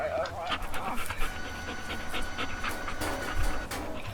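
Rapid rhythmic panting from a dog in the physics game Teardown, close and fairly loud, with quick breaths repeating steadily throughout alongside a faint background hiss.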